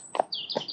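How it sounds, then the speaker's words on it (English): A couple of short, bright bird chirps sound outdoors during a horseback ride through a field, quiet and brief against a still background. "You alright, bird?"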